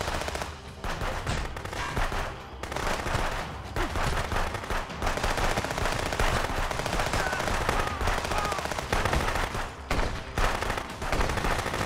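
Enemy gunfire in the video game Contraband Police: dense, sustained bursts of automatic shooting with heavy overlapping shots, loud and continuous for the whole stretch with only brief dips.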